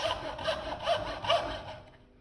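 A thin saw blade cuts slowly through an HDPE plastic workpiece, giving four or five soft, rasping strokes in an even rhythm. The sound is close and moderate in level, with no voices, and it fades out at the end.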